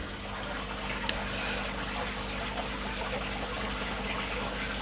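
Aquarium plant dipped and swished in water, a steady watery wash with faint splashing and gurgle running throughout, fairly quiet and continuous with no voices.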